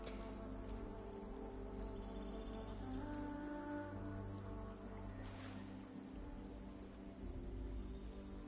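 Steady rain falls in the video game Fallout 76, a continuous broadband hiss of drops on surfaces holding an even level throughout, with a low game ambience droning underneath and no voices.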